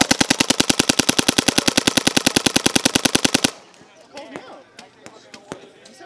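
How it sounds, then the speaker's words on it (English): Rapid automatic gunfire rips out in one sustained loud burst of evenly spaced shots for about three and a half seconds, then stops; after it a few faint scattered pops and knocks follow while people talk. "So this is how you're supposed to hold a gun and you shoot."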